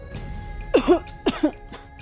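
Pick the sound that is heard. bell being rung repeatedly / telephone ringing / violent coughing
violent coughing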